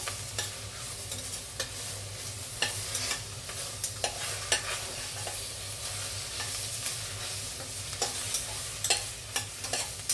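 Chopped tomatoes with onion, ginger, garlic, green chili and curry leaves are stirred in a frying pan for mutton kurma, giving a steady sizzle broken by close, repeated scraping strokes of the spoon.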